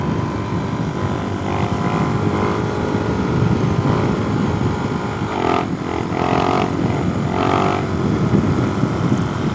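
Suzuki DRZ 4S motorcycle engine running steadily in fourth gear while riding, a constant droning hum under wind noise, with a few brief rises in pitch and no talk.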